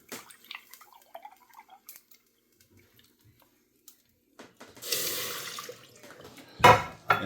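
A cup of milk is poured into a saucepan in a home kitchen: a rushing, splashy pour of about a second, preceded by a few small clinks and drips and followed by a sharp clatter.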